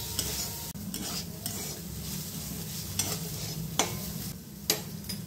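Chicken keema is sautéed and stirred in a pan while its liquid cooks off. The pan gives a steady soft sizzle, and a spatula scrapes and taps it now and then, with a few sharper clinks.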